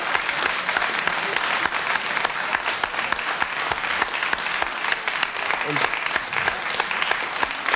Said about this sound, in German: Das ist eigentlich kein Beifall wert.